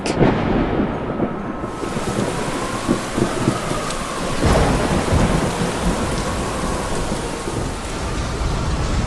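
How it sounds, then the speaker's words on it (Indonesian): Heavy rain pours steadily while a low roll of thunder rumbles through, loud and enveloping, with no voices. "hujan deras mengguyur bumi, awan gelap menggantung"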